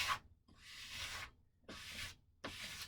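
Hand sanding on a wooden workpiece during a build, heard as four long rhythmic abrasive strokes with short pauses between them, close and fairly soft with no talking.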